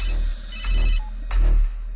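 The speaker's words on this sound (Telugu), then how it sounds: "ఫోన్ వస్తుంది చూడు, లిఫ్ట్ చేయి." A phone ringtone rings in a Telugu political action thriller film, two short bursts of ringing close and clear over a low background hum, with no talk.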